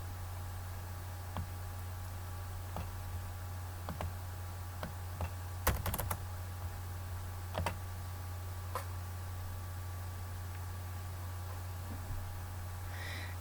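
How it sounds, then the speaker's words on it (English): Sparse keystrokes on a computer keyboard while payroll unit values are entered, scattered single taps and a short cluster of clicks over a steady low electrical hum, close and fairly quiet. "Simply enter in the unit value and then hit Save and Calculate."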